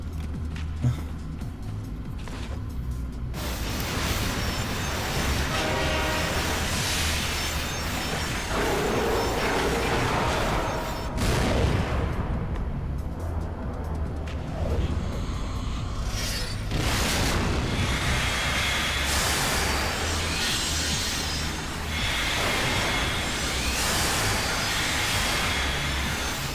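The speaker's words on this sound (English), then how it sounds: "Spooky train." A spooky train sequence in the video game Vindictus: mechanical rumbling, clanking and booming impacts build continuously for the whole span at steady high loudness, with no talking.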